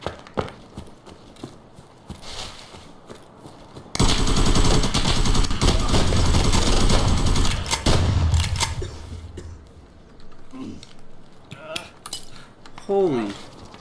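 Shotgun fire in the video game Escape from Tarkov, a sniper-style shotgun build: a sustained loud burst of blasts over about four seconds, then sporadic clanks and softer shots around it.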